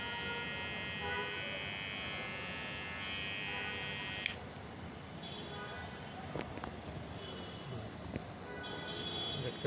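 A golden-bodied Kemei KM-510 rechargeable hair trimmer buzzes steadily at close range for about four seconds, then clicks off, leaving quiet room noise with a few small handling clicks.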